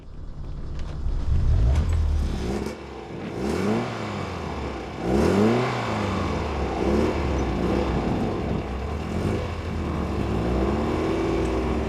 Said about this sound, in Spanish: Estos motores de doble árbol de levas son motores encantadores